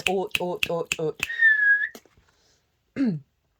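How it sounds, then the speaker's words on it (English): Someone whistles a single short, bright note that slides up and then settles, preceded by a quick series of chirpy voiced sounds and followed by a faint, brief voiced sound. "they've got really into whistling"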